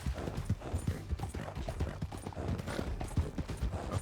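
A horse in Red Dead Redemption 2 clip-clops along in an even, rhythmic trot, the hoofbeats close and distinct, with faint mechanical creaks underneath and no talking.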